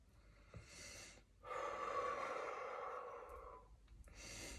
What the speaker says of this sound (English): Breathing